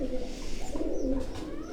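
Pigeons coo steadily at a rooftop pigeon-flying contest, a soft, continuous low murmur of overlapping calls with faint background noise throughout.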